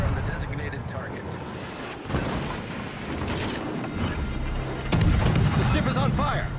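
Naval gunfire from warships in the game World of Warships: Legends, heavy booming salvos and rumbling blasts with a strong hit near the end, layered over game sound and battle noise.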